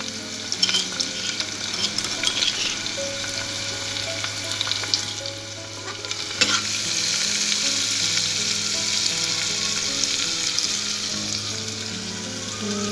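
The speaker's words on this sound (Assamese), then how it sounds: "তেলতে দি দিলোঁ। এইখিনি অকণমান সময় ভাজিব লাগিব" Ginger and garlic sizzle steadily in hot oil, with stirring and scraping close by, no voices.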